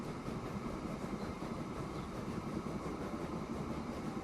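Steady rumbling rail noise from a train running in Transport Fever 2, a continuous loud low roar with no clear clickety-clack and no talk.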